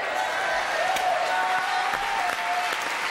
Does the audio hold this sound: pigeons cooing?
no